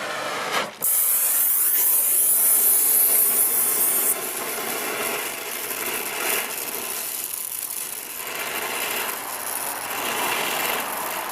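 A torch hisses loudly as its flame heats around the head of a broken aluminum bolt, a sharp bright roar for several seconds that drops to a softer steady hiss.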